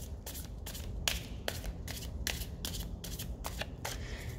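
A deck of tarot cards shuffled by hand, a rapid series of crisp riffling flutters repeating evenly throughout, close and alone.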